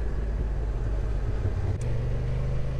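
Honda NT1100 motorcycle riding through the Alps, with a steady low engine drone and road rumble that holds loud and even throughout, broken only by a brief click near the middle.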